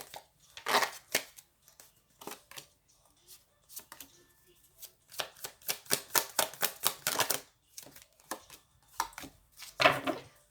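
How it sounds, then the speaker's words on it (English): Tarot cards being shuffled and pulled in a relationship reading, giving bursts of crisp riffling and slapping clicks that come in quick irregular clusters with quiet gaps between, close up and without talk. "So let's go ahead and just pull more cards."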